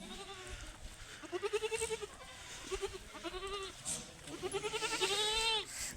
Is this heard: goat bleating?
yes